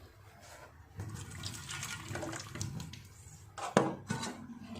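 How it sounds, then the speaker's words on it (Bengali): Cold water splashes and gushes over boiled eggs and potatoes in a pot, a running, rushing pour with a few louder sloshes near the end. "নামিয়ে নিয়ে একটু ঠান্ডা জল দিয়ে দেব।"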